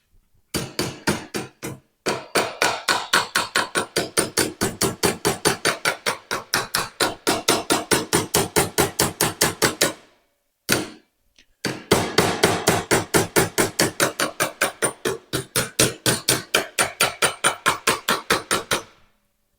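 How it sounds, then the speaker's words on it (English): Rapid, loud metallic hammer blows shaping sheet metal on a 1948 Willys pickup strike in long steady runs, pausing briefly twice before the pounding resumes at the same brisk pace. "So we'll start with a hammer and see if I can do something with it."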